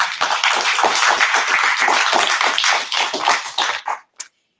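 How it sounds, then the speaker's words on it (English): An audience at a city climate action plan meeting claps together in a dense burst of applause that continues steadily, then thins to a few last claps and stops. "If we could have a round of applause for everybody."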